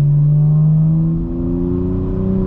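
A Ford Mustang engine drones loud and close, a steady low tone that dips slightly then rises again as revs shift, heard alone without talk.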